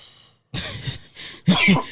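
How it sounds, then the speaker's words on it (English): A couple of short, harsh coughs or throat-clearing bursts, close and loud, after a brief silence. "That's why I'm over here coughing."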